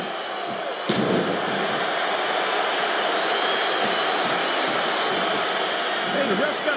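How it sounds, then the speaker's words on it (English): Game crowd chanting in WWE SmackDown vs RAW 2007, a steady broad arena roar that holds for the whole stretch, with a sharp thump near the start and commentary voices over it. "listen to that chant"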